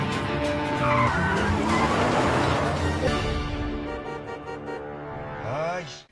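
Car speeding in a gangster film chase, tires skidding and squealing loudly over a roaring engine, the screech fading before a final sharp squeal.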